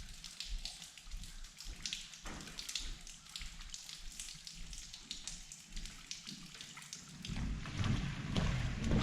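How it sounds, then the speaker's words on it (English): Rain falls steadily at a building site on the second day of a wet spell, a dense close patter on surfaces with gusty wind noise rising toward the end. "with this being day 2 of rain"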